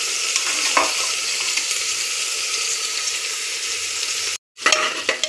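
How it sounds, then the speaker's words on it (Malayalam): Chopped carrots frying in a pan for fried rice give a steady, close, loud sizzle with stirring scrapes, cut by a brief silent gap near the end before the sizzling comes back. "നമ്മൾ എല്ലാം ഇട്ട് നമ്മളിത് വറുക്കുകയാണ്"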